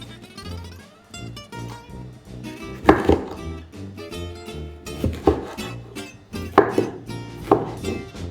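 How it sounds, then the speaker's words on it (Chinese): A knife cuts tricolor bell peppers on a board, several sharp chopping knocks spaced irregularly over soft background music, close and fairly loud. "切下1/3的三色灯笼椒。"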